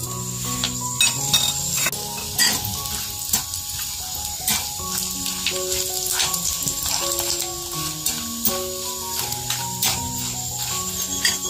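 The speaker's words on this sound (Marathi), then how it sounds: "आता हे मी सुकं खोबरं तळून घेते." Dried coconut frying in hot oil for Diwali poha chivda, a steady close sizzle running throughout with soft clinks of utensils and background musical tones, no talking.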